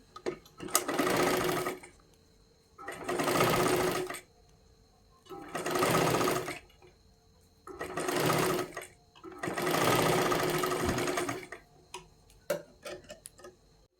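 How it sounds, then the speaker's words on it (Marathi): A sewing machine runs in five distinct bursts of rapid stitching, each about a second or two long with quiet pauses between, sewing a double seam on a katori blouse close by. "ह्याच्यावरती आपल्याला पुन्हा एकदा एक डबल शिलाई मारून घ्यायची आहे"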